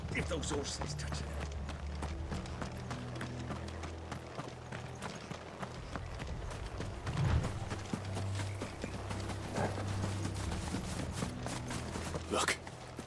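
Horse hooves clip-clop steadily through the whole stretch, over a low rumbling game soundtrack with a few louder thuds.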